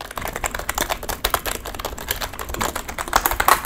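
Rapid clacky keystrokes on a mechanical RGB gaming keyboard, close up and steady, with no talking.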